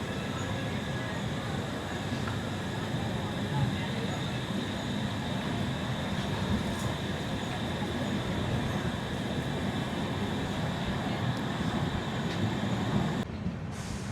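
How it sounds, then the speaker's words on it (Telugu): Seshadri Express with new LHB coaches running between stations, a continuous steady rumble and hum of the moving train heard from inside, constant in level throughout. "మన ట్రైన్ భీమవరం టౌన్ నుంచి అయితే బయలుదేరిపోయింది"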